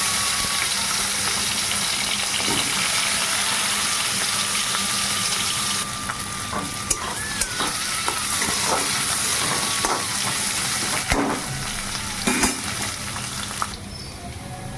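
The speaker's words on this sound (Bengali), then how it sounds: "শুকনো লঙ্কা আর জিরে ফোড়ন দিয়েছি, এবার আলুটা দিয়ে দিচ্ছি" Potato pieces fry in hot oil tempered with dried red chilli and cumin, a steady, close hiss and sizzle that runs throughout with a few brief clinks and bumps.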